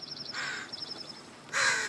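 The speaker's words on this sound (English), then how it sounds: "I've never seen birds chill on this thing so much." Crows caw in The Forest video game: a run of rapid, evenly spaced caws, then a louder harsh caw near the end, with steady ambient game noise underneath.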